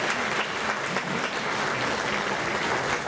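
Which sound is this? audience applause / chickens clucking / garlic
audience applause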